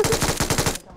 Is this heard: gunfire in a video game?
yes